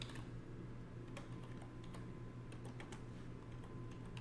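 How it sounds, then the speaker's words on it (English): Faint keystrokes on a computer keyboard at a forex trading desk, a scattering of soft, irregular clicks over a steady background hum, with no voices. "All right, let's type it up."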